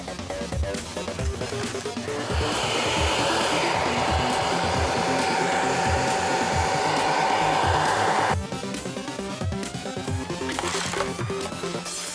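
A hot air blower runs steadily while heating a heater hose on a Datsun 280Z, a loud, close, continuous airy whir with a faint steady tone that drops off abruptly near the end.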